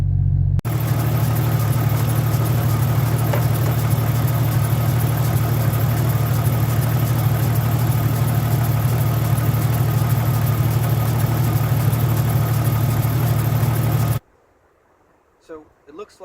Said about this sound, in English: this Napa alternator, considering it came from Napa, is a complete and total piece of crap, and probably what's squeaking and making all that noise